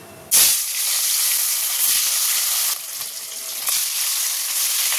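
Hilsa fish pieces dropped into hot oil burst into a loud, steady sizzle that starts abruptly and keeps hissing without a break, with slight swells as pieces shift in the pan.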